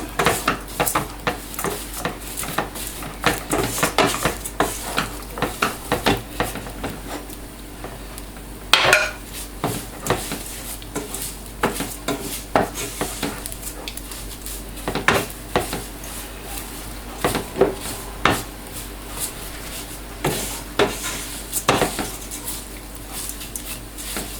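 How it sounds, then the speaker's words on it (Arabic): A pan of very thin vermicelli being stirred as it fries until golden, with steady scraping and clinking of a utensil against the pan and a light sizzle underneath, close and continuous, with no talking. "غادي نبقى كنحركها هكذا حتى تحمر، تولي على شكل ذهبي"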